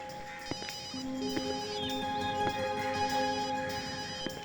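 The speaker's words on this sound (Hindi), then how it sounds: "सर घंटी बज रही है।" A mobile phone ringtone plays a repeating electronic melody, moderately loud, over a faint background hum and occasional clicks.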